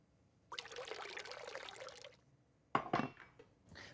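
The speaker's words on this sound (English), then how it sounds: "Add the lemon juice." Lemon juice poured into a pot of heating milk for homemade ricotta, a steady liquid stream lasting about one and a half seconds, followed by a few brief clinks and splashes, close and fairly quiet.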